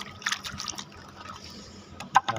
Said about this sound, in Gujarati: તો હાલામાં પાણી થોડુંક ભરી લઈએ